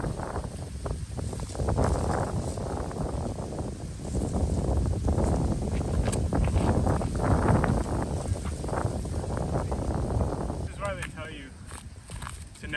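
Steady, loud wind buffets the microphone outdoors on a disc golf course, a continuous rough roar that swells and eases for the whole stretch, with some faint shuffling underneath and no speech.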